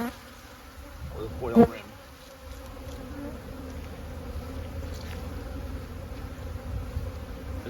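Honeybees buzzing in a hive, a steady low hum close by with a short louder burst near the start and a brief voice.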